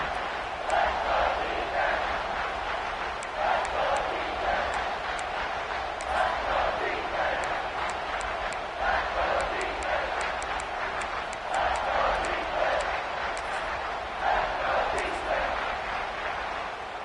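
Stadium crowd noise from a College Football 26 game at a CFB Playoff semifinal with Miami, a sustained roar with swelling cheers throughout while an announcer talks over it.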